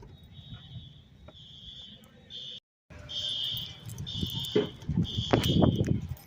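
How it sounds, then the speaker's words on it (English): A fire alarm sounds inside a Walmart store, a high repeating electronic tone in short bursts, moderately distant, with shopper talk and store noise growing louder beneath it. "Fire alarm's going off at Walmart."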